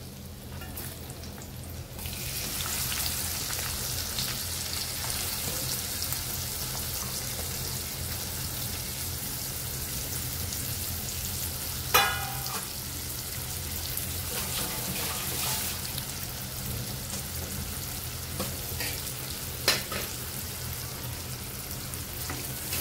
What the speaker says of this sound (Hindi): कांदा सुद्धा थोडा लालसर होईपर्यंत परतून घेऊया।